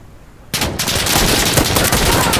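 Loud, rapid automatic gunfire in Insurgency: Sandstorm bursts in after a brief quiet moment and continues as sustained, close, overlapping shots.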